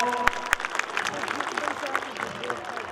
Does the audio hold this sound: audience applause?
yes